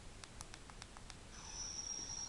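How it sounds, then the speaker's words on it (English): Toy sonic screwdriver playing a laser screwdriver effect: a quick run of faint ticking clicks, then a thin high electronic whine that rises and sustains, fairly quiet. "That's like the Master's laser screwdriver."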